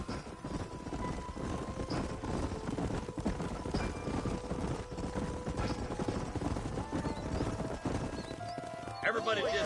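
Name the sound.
horses trotting, from video game Red Dead Redemption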